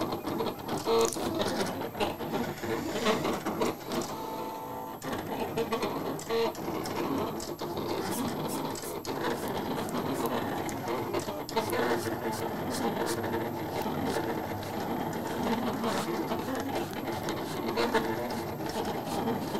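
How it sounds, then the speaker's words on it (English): Heat press in a T-shirt printing workspace, a continuous mechanical hum and rattle running throughout at a steady level, mixed with workshop clatter and brief voices. "Make sure this heat press is on, because we're about to start pressing."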